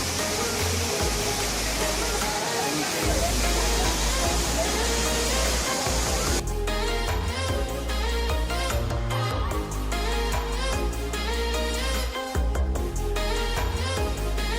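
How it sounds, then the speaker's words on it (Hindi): A powerful waterfall near Pelling, Sikkim roars steadily throughout, a dense wall of rushing water; partway through the texture shifts slightly as the churning grows busier. "क्योंकि झरने का फ्लो बहुत तेज़ था।"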